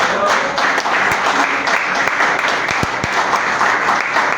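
Church congregation applauding, a steady wash of clapping from a crowd with a few sharper claps standing out, continuous throughout.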